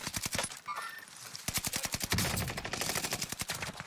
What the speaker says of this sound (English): His teammate's shooting at me right now.